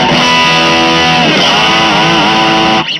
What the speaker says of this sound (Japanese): ディストーション ですね。